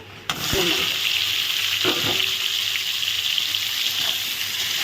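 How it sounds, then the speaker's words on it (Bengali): Pointed gourd sizzles loudly and steadily as it fries in hot oil, with a few clanks of a utensil against the pan early on. "পটলগুলো এখন ভেজে নিচ্ছি"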